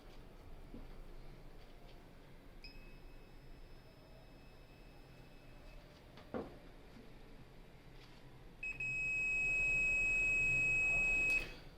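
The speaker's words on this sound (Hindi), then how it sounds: "आपको सुनाई देना चाहिए कि आपको बीप साउंड आ रही" Two steady electronic beeps from multimeters in continuity mode, the first moderate and held for about three seconds, the second louder and longer, over a quiet room hiss.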